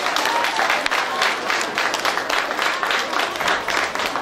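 An audience at an outdoor village festival of flowers and honey applauds for a group of children, steady, fairly close clapping with a few voices mixed in.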